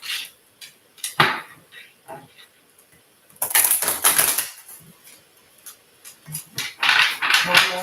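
Tarot cards are shuffled by hand with long fingernails, giving bursts of crisp riffling and flapping clicks separated by short quiet gaps, close and fairly loud, with no speech.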